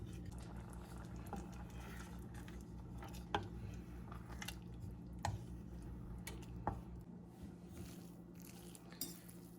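Home-canned food simmering in a pot on the stove, a soft continuous bubbling under low background hum with occasional faint ticks, quiet and close, no talk.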